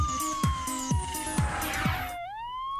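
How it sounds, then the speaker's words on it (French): A police siren sound effect wails with a descending tone and rapid pulsing yelps, loud and close, then shifts into a rising sweep at the end, with no voices. "je commence avec le son de sirène de police"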